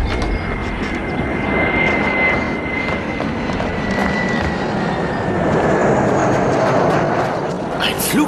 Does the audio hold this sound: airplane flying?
yes